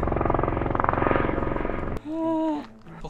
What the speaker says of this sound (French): il y a les hélicos qui tournent